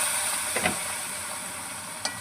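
Spice paste for a crab curry sizzles in hot oil as a little water is added, a steady loud hiss with brief sharper spits and crackles breaking through a couple of times.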